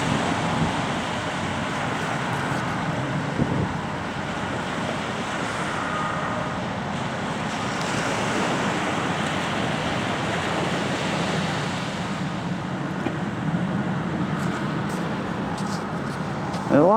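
Surf and gusting wind at the far end of Elliot beach in Arbroath, a rocky shoreline, form a steady, loud roar of waves and buffeting air throughout, while a person talks over it.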